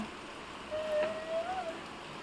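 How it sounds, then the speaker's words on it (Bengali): Rain falls steadily as a soft, even hiss, faint and constant throughout, with a brief thin whistling tone rising over it midway. "দেখো কত বৃষ্টি হচ্ছে, কত বৃষ্টি"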